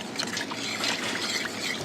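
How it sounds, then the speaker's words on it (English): Spoon stirring a pickling liquid of white wine vinegar and caster sugar in a pot, a soft continuous swishing and light liquid trickling, close and steady, without speech. "Give it a quick stir."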